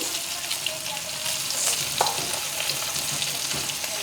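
Fenugreek seeds fry in hot oil in a wok, making a steady close sizzle with faint scattered crackles, a brief utensil clink, and no voices.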